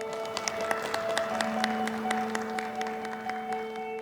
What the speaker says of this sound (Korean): 올해의 장애인상을 수상하신 김남희님, 이규환님, 고관철님께도 뜨거운 박수 부탁드리겠습니다.